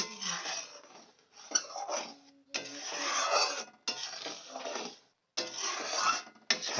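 Chhana and milk stirred continuously in a pan for Kalakand sandesh, a close, rough scraping and rubbing in long sweeps with brief pauses between strokes.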